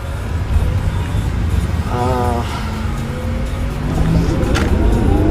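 A Porsche Taycan electric car accelerating hard on a neighborhood street: steady road and tire rumble with a faint rising electric whine, a person talking briefly over it, and the noise swelling toward the end.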